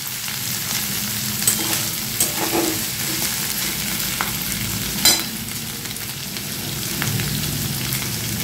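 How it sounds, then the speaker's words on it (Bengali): Bread bhelpuri mix with cornflakes frying in a pan, a steady close sizzle with occasional scraping and clinking of a spatula stirring, no talk. "এবার এগুলো ভাজবো।"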